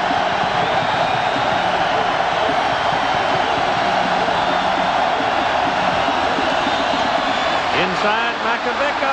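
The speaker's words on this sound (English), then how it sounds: "Crowd coming up." Broad, steady roar of a football stadium crowd at a Nebraska vs Washington college game, loud and continuous throughout with a slight swell, with a commentator talking over it.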